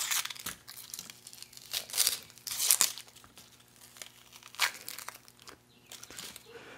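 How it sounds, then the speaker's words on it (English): Fingers peel the papery outer skin and first layer off a small onion, a series of close crinkling, tearing crackles in uneven bursts with quiet pauses between. "I'll just go ahead and sacrifice this outer layer of good onion just to get the peel away"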